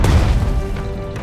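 Artillery fires in the WWII strategy game Strategic Mind: Blitzkrieg at the Kursk battle: a loud, close, broadband boom opens, then its rumble fades over about a second.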